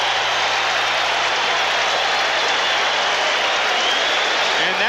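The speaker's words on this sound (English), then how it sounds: "Mets fans applauding Dykstra for hitting a triple" A baseball crowd at Shea Stadium applauds a stand-up triple by Lenny Dykstra during a 1989 Mets game, a dense, steady roar of clapping and cheering heard from a broadcast distance.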